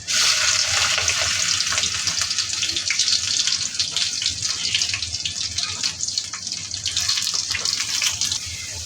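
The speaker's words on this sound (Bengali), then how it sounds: "তো এখন পেঁয়াজ রসুন সবগুলো দিয়ে দেবো, আদা সহ এখানে।" Onion, garlic and ginger hit a hot frying pan and set off a loud, continuous hissing sizzle close up that holds steady throughout, easing slightly at the very end.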